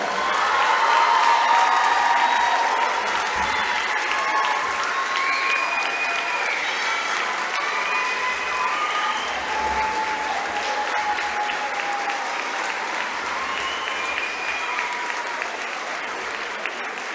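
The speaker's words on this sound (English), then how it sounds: "Let's give these outstanding student athletes another round of applause." A gym crowd at a high school basketball game applauds student athletes in a long, steady round of clapping with light cheering and scattered voices mixed in, holding at an even level throughout.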